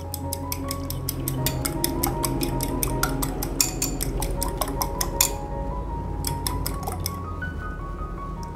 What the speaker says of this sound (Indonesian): Kita kocok telurnya ya. Ini kita kocok lepas seperti ini.